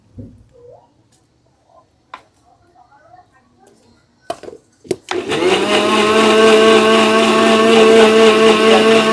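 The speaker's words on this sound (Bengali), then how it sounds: "আমি এই কাটা পিসগুলোকে মিক্সির মধ্যে দিয়ে এবার জুস বের করে নেবো" Electric mixer blender whirring loudly and steadily as it blends cut watermelon pieces into juice, starting abruptly after a few knocks and quiet handling, with a sustained motor drone.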